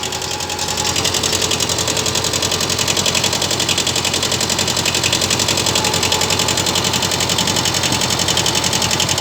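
A small tractor engine for work around a private home runs in reverse gear, a loud, close, steady rapid chugging with an even mechanical rattle throughout and no talking.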